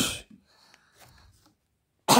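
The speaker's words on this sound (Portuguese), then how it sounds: "Eu não consigo parar de tossir" A short, sharp cough bursts out at the start and another at the end, with faint quiet rustling in between.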